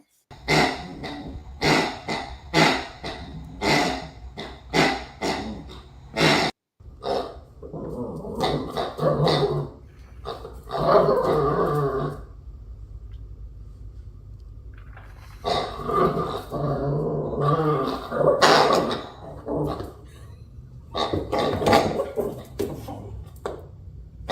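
A dog growls and grumbles in repeated bursts while tugging at a big squeaky pig toy, the rough close rumbles broken by short pauses over a steady background hum.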